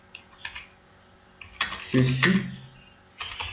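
Fingers type on a computer keyboard while writing a paragraph element in a web project, quick light clicks in short bursts, with a voice speaking briefly over them.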